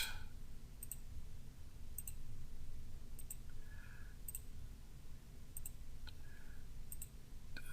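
Computer mouse clicks sound while pages are deleted in a website builder. They come as a series of sharp, quiet, evenly spaced clicks over a faint background hum, with no talking.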